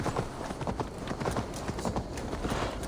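Horse hooves gallop in Assassin's Creed Valhalla, a rapid, steady clip-clop rhythm that stays close and prominent throughout, with no voices over it.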